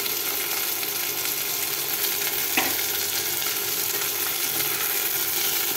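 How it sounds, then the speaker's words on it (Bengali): Tomatoes with salt cooking in a pan, a dense continuous sizzle throughout with one brief stirring knock near the middle, close and steady, with no talking. "আবার নেড়ে দিব"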